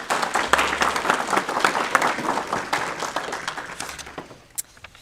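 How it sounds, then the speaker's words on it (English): Audience applause fills a school board of education meeting hall in Stanly County, a steady burst of clapping that holds for several seconds before thinning out and tapering near the end. "Please give Mr. Hopkins a round of applause."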